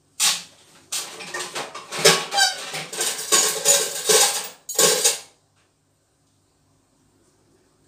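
Metal clinks, scrapes and rattles as a traditional Thai coffee brewing pot is handled, a close run of uneven clattering bursts for about five seconds before falling silent.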